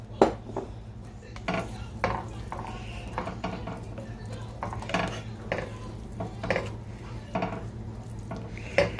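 Feta pasta with prosciutto and spinach being stirred in a pan, repeated soft scrapes and light clinks of a utensil over a faint sizzle and low steady hum, close and moderate in level.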